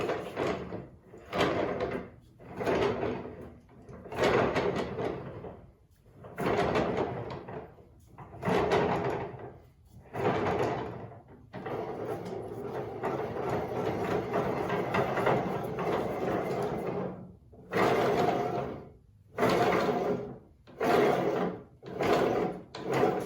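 A homemade wooden Roubo tail vise built from a scaffolding jack is cranked in and out, giving rhythmic rumbling, sliding strokes close by, with one longer continuous run midway and no talking.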